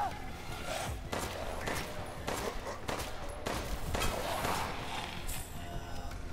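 Gunfire in Resident Evil Village Mercenaries mode, repeated loud sharp shots spaced irregularly across the stretch, with faint footsteps and a voice speaking between them.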